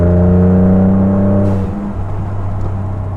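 A Ford Raptor fitted with an AWE 0FG exhaust revs hard, its deep, steady drone holding loud and close before the pitch drops sharply and settles into a rougher, lower idle rumble.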